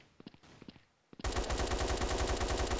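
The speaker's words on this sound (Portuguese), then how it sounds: "se você aguentar os dois botão, ela atira com as duas metralhadoras" Dual machine guns fire at once in Blood Strike, breaking into a dense, loud continuous rattle of rapid shots after a second of quieter scattered game sounds.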